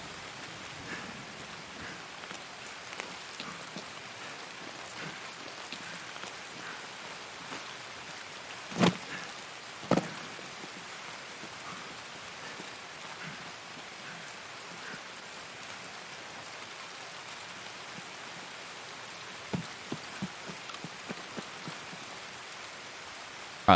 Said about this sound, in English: Raining as well. That's disgusting.